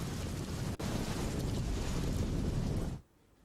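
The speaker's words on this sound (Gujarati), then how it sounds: "લાંબાની મુખ્ય બજારોમાંથી ધસમસતા પાણીના પૂર વહી રહ્યા છે" Floodwater rushing through the main market streets of Lamba village in Kalyanpur taluka after torrential rain, a loud continuous roar with a brief dip, then cutting down to a faint hush near the end.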